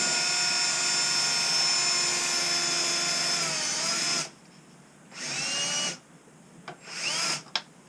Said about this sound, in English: let me get the drill out.